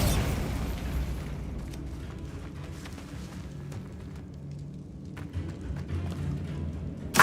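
Bombarda spell explosions in Hogwarts Legacy, an opening boom followed by scattered muffled blasts, pops and crackles over a low rumbling bed, with another sharp burst at the very end.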